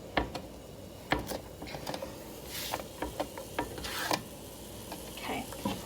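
Beef empanada filling is sautéed in butter in a pan, with a soft sizzle under repeated sharp clicks and scrapes of a utensil stirring against the pan at an uneven pace.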